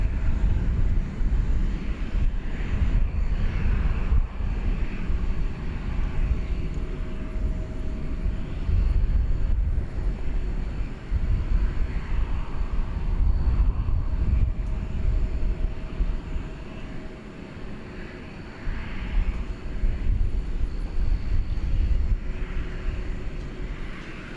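A cargo plane taxiing for departure at DFW Airport at night gives a low, steady engine rumble with a faint whine, moderately distant and rising and falling gently, with no voices.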